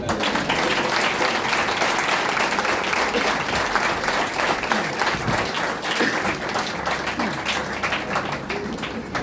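A church congregation claps loudly and continuously, a dense, steady wash of applause filling the room throughout with no break.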